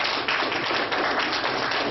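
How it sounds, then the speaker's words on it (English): A conference audience applauds, a loud, dense burst of clapping that stays steady throughout. "I want you to stand up and give a round of applause to Minister Akbar Muhammad."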